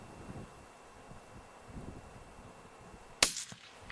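A single rifle shot cracks while hunting chamois outdoors, one sharp loud report near the end followed by a short echoing tail, with wind and light rustling underneath and no speech.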